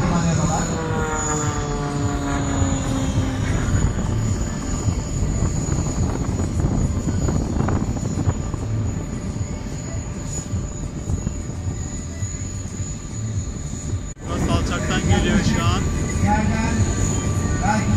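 A propeller-driven aerobatic airplane flies low, about 20 metres above the ground, at the Eurasia airshow 2018, its engine droning loudly and steadily throughout with a pitch shift, while someone talks over it.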